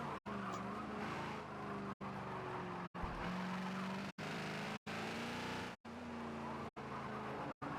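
A Ford Falcon XB in the Forza racing game, its engine droning steadily at high revs with tire squeal through corners and several abrupt gear-change cuts, loud and close throughout.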